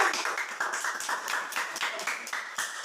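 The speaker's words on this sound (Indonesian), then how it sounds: "tepuk tangan untuk" Classroom of pupils clapping for a group after a reading, quick uneven claps from a small group, fairly faint and steady throughout.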